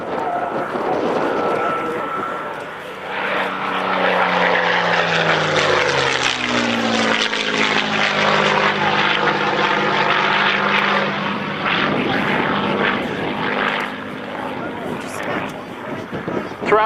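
A Spitfire fighter roars past at an anniversary air display, its propeller engine swelling loudly overhead and fading away with a sweeping pitch change, with a voice talking over it.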